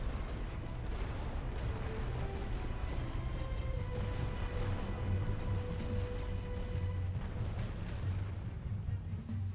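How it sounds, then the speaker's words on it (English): Heavy artillery fire in the First World War game The Great War: Western Front rumbles as repeated distant booms over a continuous low battlefield din, fairly faint. "Don't really want to sit and eat heavy artillery."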